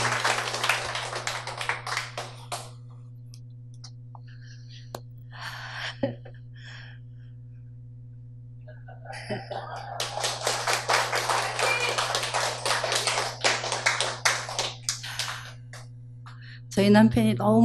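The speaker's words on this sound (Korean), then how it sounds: "자, 박수로 맞이해 주시기 바랍니다." Audience applause welcomes a guest to the stage at a Korean inspirational talk event. Two bursts of dense clapping fill the room, one brief and one longer, over a steady low hum.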